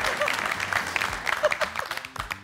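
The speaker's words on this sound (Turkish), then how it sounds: "Bir alkış alalım Allah aşkına." A studio audience on a family game show claps in a brief, uneven burst of applause, with a voice speaking over it.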